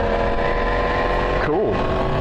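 A 2023 Yamaha MT10 motorcycle with a Junction 33 Woolich remap, engine droning loudly up close through the ride with a brief crackling, popping exhaust burst near the middle.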